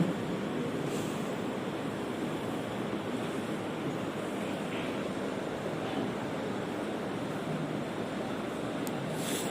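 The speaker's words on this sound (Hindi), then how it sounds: "इसी तरह फिर यहाँ पर भी पानी बहाना है।" Water pours steadily over someone's body during washing, producing a continuous, even splashing rush that lasts the whole stretch with no talk over it.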